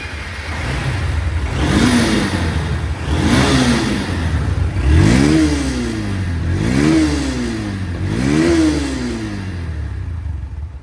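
A second-hand Honda Hornet motorcycle in super condition revs repeatedly, about five rising-and-falling throttle blips over a steady idle, loud and close with no talk.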